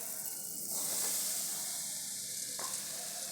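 Fresh green henna leaves dropped into hot, darkening homemade hair oil give a steady close sizzle and hiss, swelling briefly as they hit the oil, with no voices.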